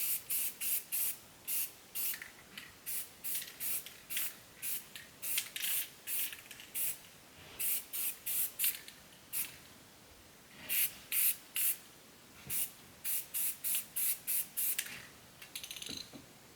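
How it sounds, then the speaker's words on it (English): Black spray paint hissing from an aerosol can during a bird feeder repair: dozens of short, bright bursts of about half a second each, sprayed in quick irregular runs with brief pauses between, close and clear with no talking. "I had a can of black spray paint sitting around"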